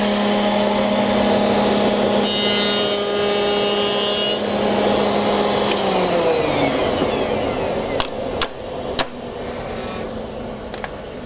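A router with a finger joint router bit cuts wood held in a coping sled: a loud, steady high whine with cutting noise that winds down after about six seconds, followed by a few sharp knocks and clicks.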